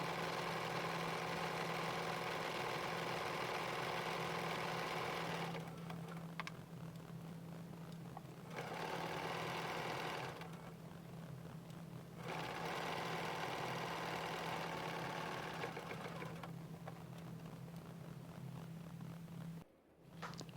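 A sewing machine stitches a mystery quilt block, running in long steady stretches of several seconds each with short pauses between, a constant low hum underneath, close and quiet without talk.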